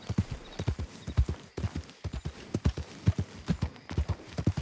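Horse hooves clip-clop in the Red Dead Redemption 2 video game, a close, steady run of rhythmic, distinct hoofbeats of a trotting horse.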